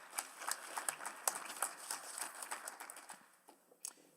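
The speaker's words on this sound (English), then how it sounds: "let's give them a round of applause and welcome them to the chambers." A short round of applause from a small group in a council committee chamber, scattered claps that thin out and fade toward the end, heard from some distance.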